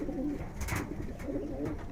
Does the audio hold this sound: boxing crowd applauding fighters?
no